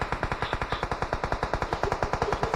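Rapid, steady bursts of automatic gunfire in PUBG Mobile, loud and close, repeating evenly for a couple of seconds with no talking.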